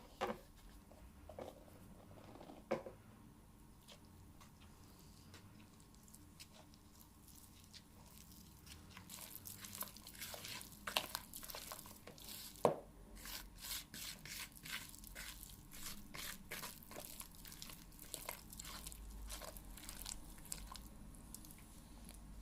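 Cornstarch being slowly stirred into crumbly cookie dough, a steady soft rubbing and scraping with dense gritty patter that grows busier and louder halfway through, plus an occasional sharp knock, with no voices.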